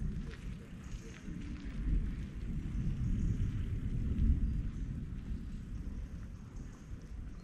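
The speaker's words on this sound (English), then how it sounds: "I don't see any rain, guys, it's just thunder" Distant thunder rolling over a city street during an approaching storm, a low, muffled rumble that swells and fades under steady outdoor background noise, with no talking.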